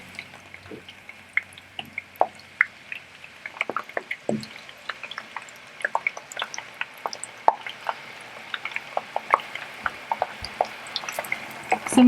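Potato pieces fry in hot oil for poutine, giving a constant soft sizzle dotted with sharp pops and crackles that keep coming throughout. No one speaks.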